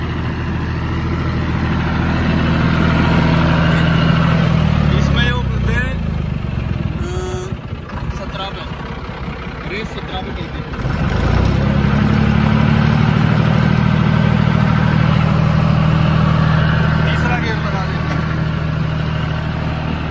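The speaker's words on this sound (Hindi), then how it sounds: "ले भाई तीसरा गियर लगा दिया क्योंकि इसकी चाल भी बड़ी ट्रैक्टर की" A John Deere 5055E tractor engine running steadily in third gear, a loud continuous diesel drone that dips briefly in pitch and level midway before settling back, close by, with someone talking over it.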